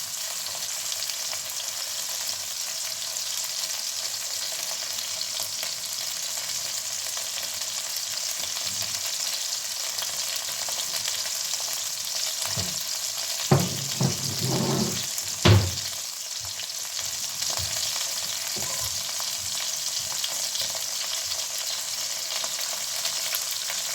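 Chopped onions sizzle steadily in a pan with a little olive oil for a Greek dish, a constant close frying hiss with a few louder stirring scrapes and clatters midway.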